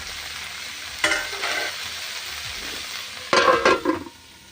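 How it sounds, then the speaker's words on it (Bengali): Cauliflower pieces fry and sizzle in a pan, a steady hiss broken by two bursts of louder scraping as the pieces are stirred, close and with no voices. "কপিটা আমার প্রায় লাল লাল হয়ে ভাজা হয়ে এসেছে"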